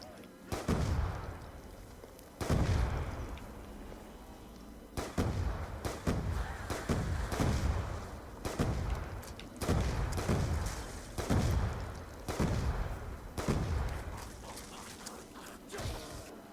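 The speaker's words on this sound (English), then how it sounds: "Mustang Assault ammo doesn't last too long, so, you know, I'm probably wasting it a little bit there" The Mustang Assault weapon fires in Black Ops 2 Zombies, heavy booming blasts in rapid clustered bursts with short pauses between volleys, loud and close, with a voice speaking between shots.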